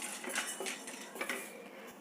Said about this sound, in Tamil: இந்த கடலைப்பருப்பு நல்லா வறுபடட்டும்